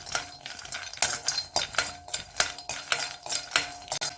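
Almonds roasting in a pan for a beetroot health mix, stirred with a metal spoon: repeated scraping clinks and clatters of utensil against pan in an irregular rhythm, close and moderately loud, with no talking.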